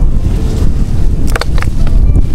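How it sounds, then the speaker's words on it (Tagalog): Strong wind buffets the microphone outdoors at a vegetable harvesting spot, a constant low rumbling roar with a few brief gusty bursts, loud and close. "sobrang lakas pa ng hangin ngayon"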